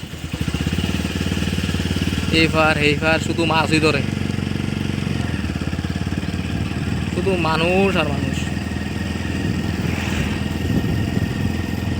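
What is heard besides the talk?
many motorcycles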